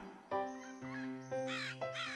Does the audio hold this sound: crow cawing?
yes